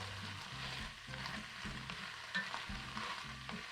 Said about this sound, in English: add the potatoes to the onion, get that going on, fry it in olive oil